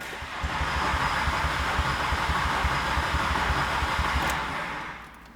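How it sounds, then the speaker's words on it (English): A car with a swapped-in five-cylinder engine cranks on the starter, a steady, rapid rhythmic chugging that runs evenly for about four seconds and then winds down, fairly close and loud. "Now that our car cranks,"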